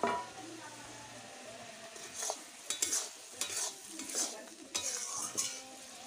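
Previously fried potatoes tipped into a pan for ridge gourd muri ghonto and stirred with a spoon: quiet scraping strokes in an uneven rhythm over a faint, steady sizzle.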